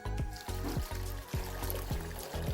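Water pours from a tap into a cooking pot to be boiled for street-style chow mein, trickling in several short bursts with a close, steady gurgle.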